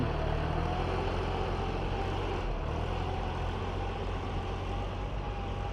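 A farm ploughing tractor's engine runs steadily nearby in a rice field, with a constant droning rumble that holds at an even level without pauses.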